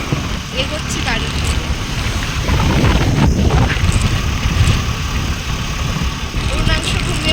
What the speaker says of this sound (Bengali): আমাদের বাড়ি যেতে যেতে রাস্তার মধ্যে বাইক চলছে